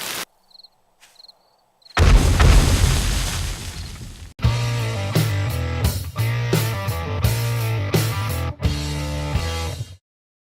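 A loud booming explosion in the zombie survival game 7 Days to Die bursts out after a few quiet, faint beeps and rumbles on, followed by a run of heavy rhythmic music-like thumps and hits.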